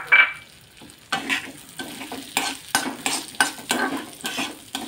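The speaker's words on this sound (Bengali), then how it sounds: "আর এটা ভালো করে ঘিয়ের মধ্যে একটু ভেজে নিতে হবে।" Broken wheat (dalia) frying in hot ghee while being stirred, with repeated scraping strokes of a spoon across the pan over a steady close sizzle.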